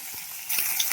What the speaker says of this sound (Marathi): कांदा चांगला ना परतून घ्यायचा आहे, तेलामध्ये फ्राय करून चांगला भाजून.